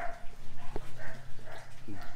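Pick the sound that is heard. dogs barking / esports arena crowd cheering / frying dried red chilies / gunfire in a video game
dogs barking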